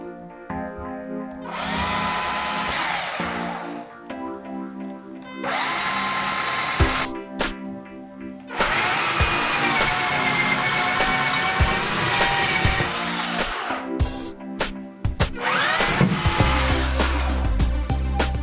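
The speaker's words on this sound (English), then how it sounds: "Now that we've marked all of our mounting locations, it's time to carefully drill." A power drill bores mounting holes into a wall for acoustic panel corner brackets, running in several loud whining bursts of a few seconds each with brief pauses between them, close up.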